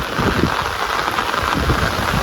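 Heavy monsoon rain falls steadily and densely, a loud continuous hiss and patter on surfaces with no voices.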